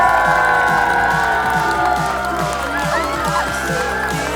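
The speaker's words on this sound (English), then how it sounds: "Let's get a round of applause." Wedding guests applauding and cheering right after the couple is pronounced married, a loud sustained burst of clapping and whoops with music playing underneath.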